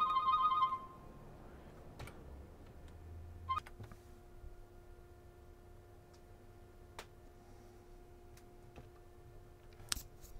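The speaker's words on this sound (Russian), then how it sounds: "Звонят." A telephone rings indoors with a brief tonal ringing burst at the start, then quieter clicks and ticks over a steady low hum while a game plays in the background.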